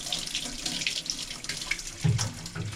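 Water running from a tap while paint brushes are rinsed in a sink, a steady splashing stream with brief louder gurgles and spatters as the brushes move under it.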